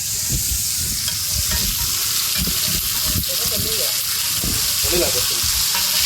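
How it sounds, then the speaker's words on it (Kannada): Fish roasts on a hot tawa with a steady, dense sizzle and frying crackle throughout, while people talk faintly in the background. "ಈಗ ಸದ್ಯಕ್ಕೆ ಫಿಶ್ ರೋಸ್ಟ್ ಹಾಕ್ತೀವಿ"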